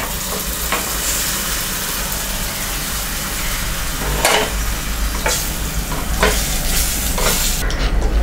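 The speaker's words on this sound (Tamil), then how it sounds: "இது நல்லா கொதிக்கிட்டோம்." Mutton gravy bubbling, stirring and sizzling in a pot on the stove, steady throughout with a few louder scrapes and clinks, no voices.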